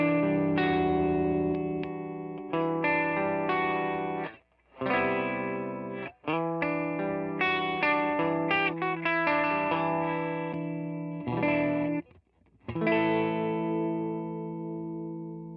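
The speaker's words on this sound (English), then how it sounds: "So P90 has a little more like bell / chimey kind of sound" Electric guitar with a P90 pickup played through effects, ringing chimey chords and clear single notes with chorus and distortion, sustained phrases broken by a few short pauses.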